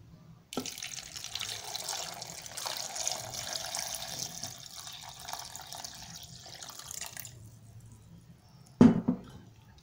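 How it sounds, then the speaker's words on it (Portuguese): Filtered water pours steadily into a kitchen blender jar already holding chopped apple and papaya, a continuous close splashing stream for several seconds that thins out before stopping, followed by a short knock. "vai adicionar a sua água filtrada"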